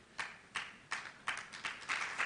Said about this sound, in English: Cela s'applaudit très fort